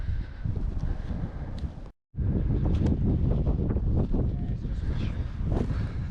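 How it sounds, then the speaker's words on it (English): Strong wind buffeting the microphone on a hillside at Devil's Elbow, Glenshee, Scotland, in a loud, continuous low roar, with one brief dropout, and a faint voice underneath. "it is getting a bit more windy up here"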